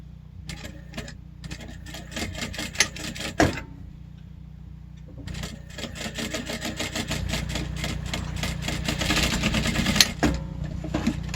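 A sewing machine stitches close to the edge of a jumbo scrunchie with a steady rapid mechanical chatter, starting and stopping in runs with brief pauses, close and fairly loud.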